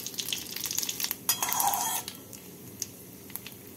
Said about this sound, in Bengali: এবার এর মধ্যে ফোড়নে দিচ্ছি 2টো শুকনো লঙ্কা, 2টো তেজপাতা আর হাফ টিস্পুন সাদা জিরে